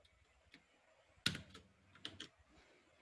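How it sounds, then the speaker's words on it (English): Keystrokes on a computer keyboard while typing into a code console, a few quiet scattered taps with one sharper click, faint and close with no talking. "typing in the console"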